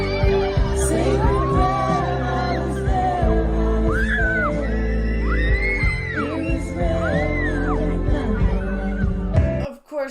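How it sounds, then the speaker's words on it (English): Excited children scream and yell over loud music, with a crowd cheering and whooping throughout and bursts of high shrieks rising above the steady noise until a sudden drop at the end. "Of course the kids are screaming because they're recognizing the songs."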